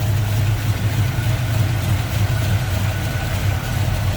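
A 1965 Ford Mustang Fastback with a crate 302 V8, headers, HEI ignition and an Edelbrock carb idles steadily up close, a continuous low rumble with no talking.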